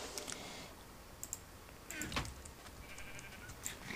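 Sheep bleat in a block-building video game, a few short bleats over steady keyboard clicking and faint background sound.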